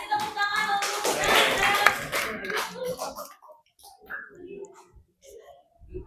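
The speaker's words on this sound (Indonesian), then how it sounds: "Kasih tepuk tangan untuk" Classroom applause for a student after a microteaching lesson on poster-making in a junior high Indonesian class, a dense burst of clapping for about two seconds that fades out, followed by a teacher's voice speaking.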